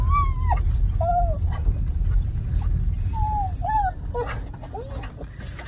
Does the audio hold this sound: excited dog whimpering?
yes